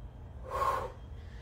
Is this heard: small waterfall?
no